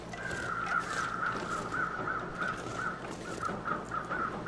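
Crows caw repeatedly in The Long Dark, a flock giving a run of harsh rhythmic calls at moderate distance over a faint wind-like background, with no talking.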